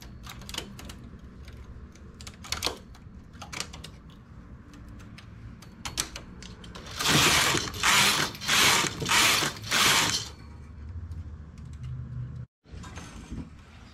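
A knitting machine carriage works a child's hooded poncho, giving scattered clicks and ratcheting ticks, then four loud sweeping rasps in quick succession as the carriage passes back and forth, followed by a brief silence and further mechanical clicking.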